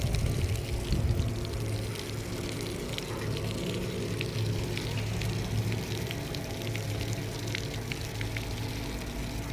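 Water falling at a decorative outdoor feature in Switzerland makes a continuous splashing rush with no pauses. The sound is moderately loud and steady throughout, with no talking.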